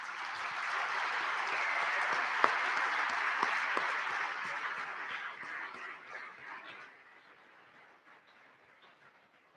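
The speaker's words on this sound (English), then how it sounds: "Please join me in a round of applause to recognize the Flipper family." A dinner audience honoring the Flipper family claps as one, a thick wash of applause that holds steady and then gradually fades away.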